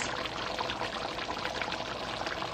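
Water pours steadily into a pot of cow foot gravy, a continuous close stream heard alone without any talk.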